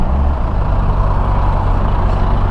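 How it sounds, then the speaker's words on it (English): Congested traffic of cars and trucks crawling across the dam over the Volga river on the way to Togliatti, a dense, continuous rumble of heavy engines close by with no talk. "this is the most typical traffic jam on the way to Togliatti"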